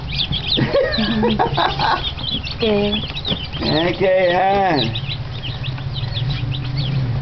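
Baby chicks in a chicken coop chirp and cluck, with a rooster-like call heard among them, a fairly steady chorus of small birds under a brief spoken remark and other voices.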